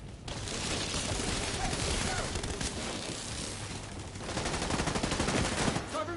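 Sustained cannon fire in The Division 2, a dense continuous rattle of rapid shots running through the whole stretch with a brief lull midway, loud and close amid game noise.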